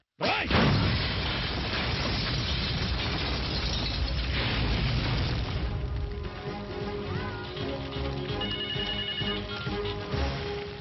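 A car bomb explosion: a sudden loud blast erupts and rolls into a long, roaring rumble that slowly fades, with a ringing tone emerging near the end.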